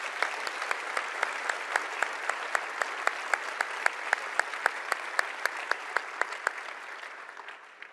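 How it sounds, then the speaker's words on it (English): A crowd at a tech conference keynote applauds steadily, with some claps falling into a regular rhythm before the clapping gradually dies away near the end. "Let's give a round of applause to all these people who work really hard."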